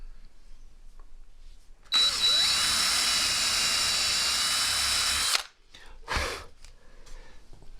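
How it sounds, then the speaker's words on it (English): A power drill whines loudly for about three and a half seconds while enlarging a hole on a two-stroke dirt bike, then stops, followed by a short breathy exhale nearby. "I think this hole is too small to guide the drill bit we're going to finish with"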